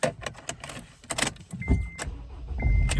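A 2011 Honda Accord 2.2 i-DTEC diesel with a manual gearbox starts: keys jingle and switches click, then the starter cranks and the engine catches into a close, steady idle.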